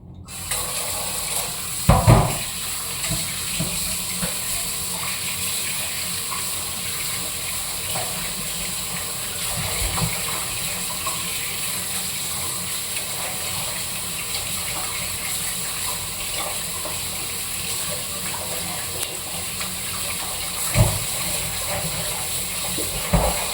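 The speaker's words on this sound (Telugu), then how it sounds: "ఇప్పుడు వీటిని ఏం చేయాలంటే శుభ్రంగా కడుక్కోవాలి." Tap water runs in a steady hiss while chicken legs are washed, with occasional splashes and soft knocks over the constant flow.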